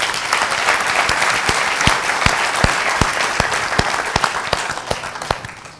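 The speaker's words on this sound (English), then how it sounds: "I would like everyone to give him a hand of applause." An audience at a public forum on governance in The Gambia applauds: loud, dense clapping from a crowd, with individual sharp claps standing out, sustained throughout without speech.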